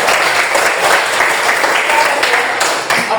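A classroom group gives steady, dense applause lasting throughout, loud and close, with faint voices mixed in.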